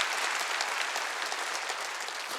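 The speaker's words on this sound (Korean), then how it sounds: "박수." A church congregation at a Wednesday worship service applauds in a dense, even wash of clapping that holds steady from start to finish with no voices on top.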